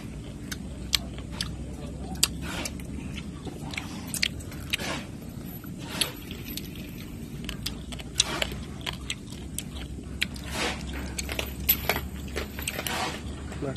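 Frog meat is chewed and bitten close to the listener, a steady run of soft wet squishes and small crunchy clicks over faint background noise.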